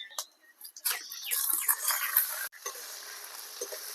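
Rice and lentils being lightly fried with onion for khichuri, a quiet crackling sizzle with scraping stirs, busiest in the first half and then settling to a softer hiss with occasional ticks.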